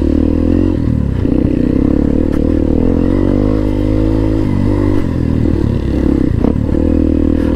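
A motorcycle grinds up a steep dirt trail in second gear, engine droning loud and steady with uneven load and occasional rattling clatter from the rough surface, close and continuous throughout.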